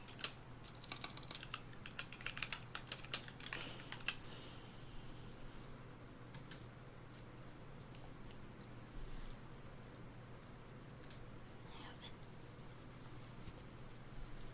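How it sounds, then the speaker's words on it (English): Quick, irregular typing and clicking on a computer keyboard, close and fairly quiet, with a denser burst of keystrokes near the start and sparser clicks afterward over a low steady hum. "I hope the clicks and typing isn't too distracting."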